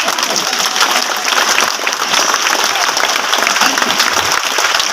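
Loud, continuous clapping from a seminar audience in Hazaribagh, dense and even for the whole stretch, with scattered crowd noise mixed in.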